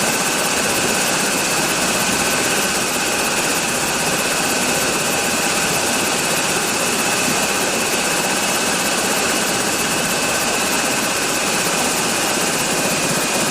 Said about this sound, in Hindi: ये देखो, टेकअप कर रहा है हेलीकॉप्टर।